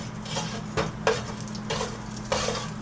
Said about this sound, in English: So you're going to roast the cumin seed and the hing, and this will give you a nice aroma.